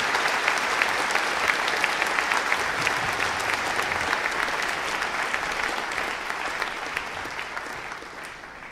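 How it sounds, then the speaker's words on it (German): Dense, steady audience applause fills a conference hall after a talk, tapering off slightly toward the end with no speech over it. "Dankeschön für den Applaus."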